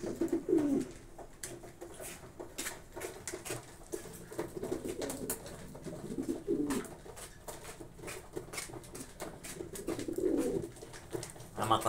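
Pigeons cooing in a loft at feeding time while parents tend their chicks, soft repeated low coos rising and falling at close range, with occasional rustling and clicks around them.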